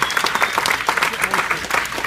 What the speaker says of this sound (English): I think we owe them an applause, right?